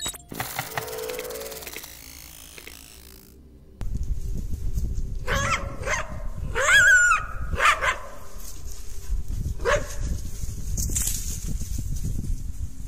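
A pack of coyotes fights a mountain lion over an elk carcass at night. After a quiet musical opening, sharp yips, barks and wavering howls break out against rough outdoor background noise.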